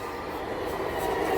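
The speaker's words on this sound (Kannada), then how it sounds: "ಟ್ರೈನ್ ಬರ್ತಾ ಇದೆ ನೋಡಿ" A Chikkaballapur passenger train arriving at a station, heard as a steady, fairly loud rumble and hiss of rolling rail cars that builds slightly over a short stretch, with no talk.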